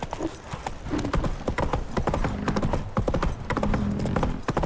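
Horse hooves clip-clopping at a steady trot in The Witcher 3, loud and close with a rapid even rhythm and a brief whinny-like tone, no speech.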